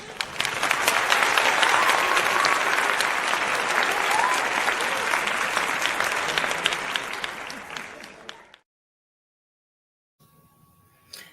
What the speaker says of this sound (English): you get a round of applause for making it back up here